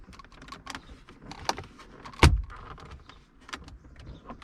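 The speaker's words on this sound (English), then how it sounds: "That locking sound is just your push tabs releasing" Plastic push tabs on carbon fiber interior trim of an SRT car popping loose, a few small clicks and one sharp snap midway, with faint rustling and handling noise around them.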